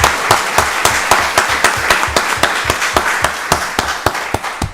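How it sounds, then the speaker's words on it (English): A round of applause for Wanda Lester at a Rockdale County Board of Commissioners meeting: steady, evenly spaced hand claps from a modest group, close and fairly loud, continuing with no talk. "Y'all give Wanda Lester a round of applause."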